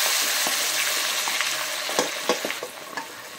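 Quail frying in hot oil with curry leaves, a dense close sizzle and crackle throughout, with a few sharp clicks and scrapes of stirring near the end.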